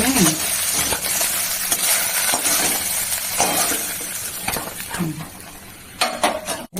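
Cumin seeds, a bay leaf and green chillies sizzle in hot frying oil, a loud, steady crackle mixed with clinks of a metal spoon and pan throughout, plus a few sharper knocks near the end.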